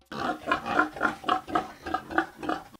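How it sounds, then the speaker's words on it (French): Pigs on a pig farm grunt in a steady rhythmic series of about nine snorting oinks, moderately close and fairly quiet, with no voices over them. "le porc est un animal controversé"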